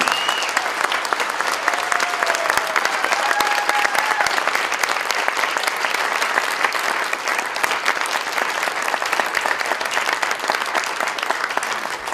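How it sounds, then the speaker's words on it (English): A crowd at a Poetry Out Loud recitation contest applauds students after the first round, a loud, dense wash of clapping that holds steady for about twelve seconds. "Let's give all of our students a round of applause for round one"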